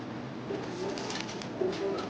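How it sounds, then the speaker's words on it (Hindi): Pet pigeons coo softly in a home loft. Several low, brief cooing calls come from nearby over a quiet rustling background. "तो ये है अपने सभी कबूतर,"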